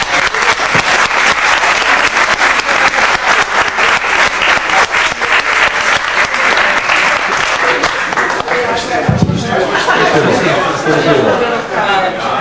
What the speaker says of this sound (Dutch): Een applaus voor deze.